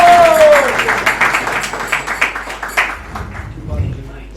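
Rhythmic clapping from an audience at a spiritual lecture, a run of distinct, fairly close claps that gradually thin out and fade, following a ringing tone at the start.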